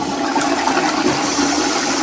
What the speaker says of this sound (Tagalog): I-flush ko muna to